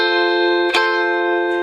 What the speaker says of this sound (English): So if I were to hold the chord down and just hold the pressure down and strum twice, it would sound like this.